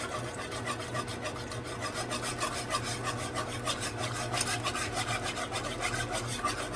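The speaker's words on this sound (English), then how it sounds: "I'm just going to whisk this together, just like that." Whisk scraping steadily against a pan as cream is worked into a sauce for chicken and rice, a continuous close rasping stir with fast regular strokes and no talking.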